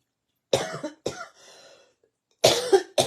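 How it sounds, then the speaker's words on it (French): Several sharp coughs from one person nearby, a pair of bursts, a short pause with a faint wheeze, then two more coughs. "on recommence à tousser"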